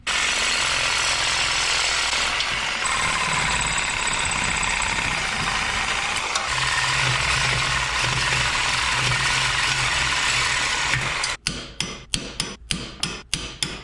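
Air tools work on bolts of an airbag base plate during an axle swap: a long, loud, steady grinding buzz from cutting the bolts off, then a rapid series of sharp impact-wrench bursts near the mic.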